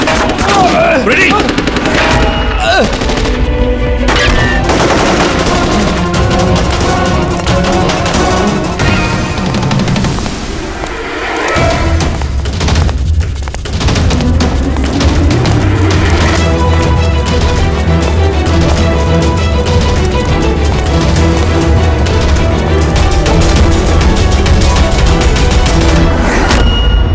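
Loud, rapid bursts of machine-gun fire from a gunfight in a TV crime drama rattle almost nonstop, mixed with heavy booms and a dramatic soundtrack.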